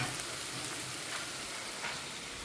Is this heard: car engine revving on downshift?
no